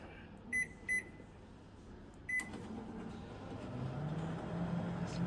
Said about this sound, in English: They're testing a Panasonic microwave.